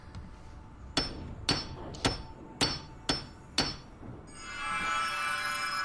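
Six sharp hammer strikes in the Dark Romance 4: Kingdom of Death hidden-object game, evenly spaced about half a second apart and loud and close, followed by a bright shimmering magical chime that swells at the end.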